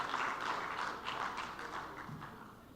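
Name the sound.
audience applause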